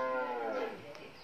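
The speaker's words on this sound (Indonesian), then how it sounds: "Sapi." A cow gives one long, loud, close moo that slides downward in pitch and fills nearly the entire moment.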